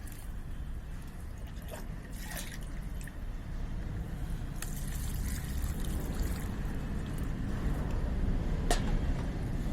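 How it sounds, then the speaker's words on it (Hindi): Water poured onto freshly repotted gandhraj and kunda flower plants, a soft steady trickle with scattered drips and splashes, fairly close and continuous throughout. "उसके बाद इसमें हमें पानी डाल देना है"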